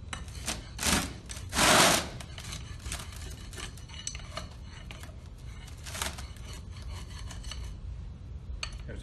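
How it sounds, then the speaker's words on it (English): A steel straight edge scrapes excess compacted soil level with the top of a moisture-density test mold, producing several harsh gritty rasping strokes, two strong ones early then lighter scrapes, close and with no talk. "It's best to use that bevel as you're scraping the material off."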